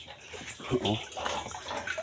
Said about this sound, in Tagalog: so habang nagapuno ng tubig,